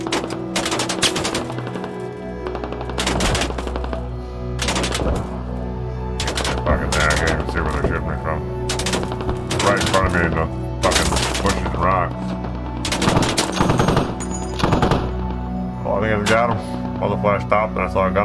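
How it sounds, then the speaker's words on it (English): Gunfire rings out during a large-scale battle in the video game Squad. Loud, sharp bursts of machine-gun and rifle shots come at irregular intervals. Some sound close and others farther off, under steady engine noise and occasional talk. "open the map and it starts shooting at me again"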